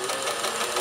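Singer 431G or Kenmore 158 sewing machine chain stitching 40 weight embroidery thread at its longest stitch length, a brief steady mechanical whir with quick rhythmic clatter, close and alone.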